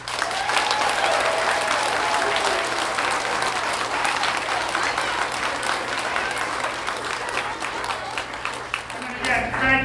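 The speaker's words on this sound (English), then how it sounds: "We give one more round of applause, please." A school winter concert audience claps in a loud, dense, continuous round of applause that fills the hall, with a voice speaking briefly near the end.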